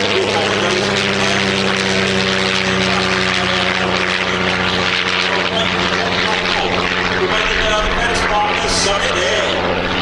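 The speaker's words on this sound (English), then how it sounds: "this double engine side door aircraft running in from the left" Loud, droning engines of a twin-engine historic propeller racing aircraft roar steadily throughout, with a continuous buzzing hum as it passes close by at a Shuttleworth air display.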